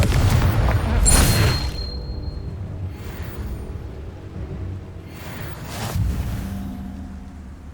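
Two deep, booming blasts from the Confringo spell in Hogwarts Legacy, one loud and one a few seconds later, rise out of a steady rumbling game soundscape with a whooshing tail after each.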